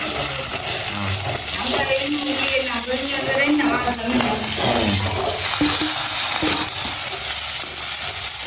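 Tomato and curry leaves frying in hot oil for a Jaffna-style curry, a dense continuous sizzle with stirring clatter, under a woman's speech.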